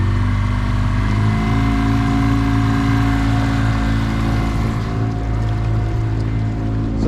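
A 2021 Edge Marine 25 Sport boat's outboard motor runs loud and close, a steady droning engine roar over water that holds through the clip as the boat gathers speed.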